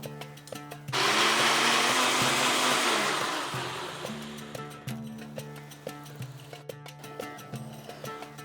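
A blender grinds a spice paste mixed with half a cup of sour yogurt: a loud whirring burst starts after a second, runs for a few seconds, then fades into softer intermittent clicks and knocks.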